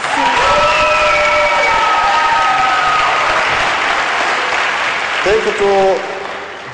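Loud, sustained clapping and cheering from a studio crowd at a televised singing contest for a young singer performing a Bulgarian song, with a voice speaking over the start and end before the applause thins out.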